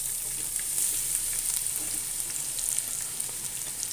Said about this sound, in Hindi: प्याज को मैं फ्राई कर लूँगी।